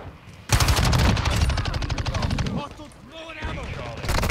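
Loud rapid automatic gunfire in a first-person shooter as a VTOL aircraft is shot down, a dense burst of machine-gun fire running for about two seconds, then fading into other game sounds and another burst at the end.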